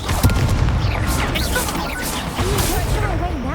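A Confringo fire spell bursting in Hogwarts Legacy, part of a dense run of booming, crashing spell impacts and magical whooshes mixed with a voice calling out spells throughout.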